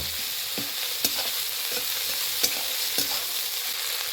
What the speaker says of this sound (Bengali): বেটে রাখা মশলা দিয়ে দেবো এখানে আদা জিরে এবং শুকনা লঙ্কা পেস্ট রয়েছে দিয়ে দেবো এখন সমস্ত মশলার সঙ্গে ভালোভাবে কষিয়ে নেব